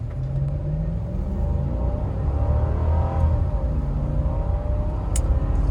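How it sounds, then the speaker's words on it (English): A 2003 Lexus LX470 off-roader under heavy acceleration, with a steady low engine rumble and road noise that builds gradually and stays close and continuous throughout. "That's not full throttle. That's just a heavy acceleration."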